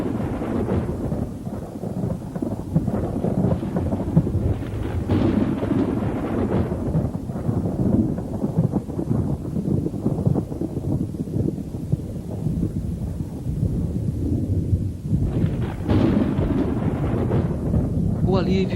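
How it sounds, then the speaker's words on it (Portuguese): Thunderstorm over crocodile territory, with lightning filling the sky and continuous rolling thunder rumbling loudly alongside steady rain and wind noise for the whole stretch. "os fantásticos quadros vivos formados pelos relâmpagos que agora enchem o céu"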